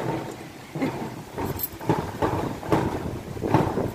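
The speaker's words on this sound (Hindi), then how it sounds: "कितनी तेज हवा आ रही।" Strong wind buffets the microphone in rough, uneven gusts, a blustery rushing sound with no one speaking.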